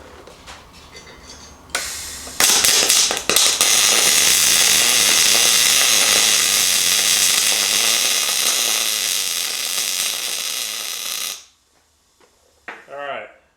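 A Fronius Transsteel 2200 welder runs in MIG mode, a loud, steady crackling hiss that starts with a few sputters and holds for about nine seconds before cutting off, followed by brief quiet handling sounds.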